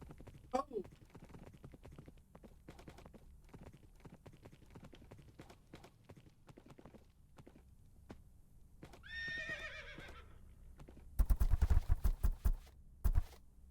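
Horse from a Minecraft Dungeons & Dragons game whinnying in a high, wavering call midway, with an earlier brief snort and a run of loud hoof clops near the end, all under steady game background and talk.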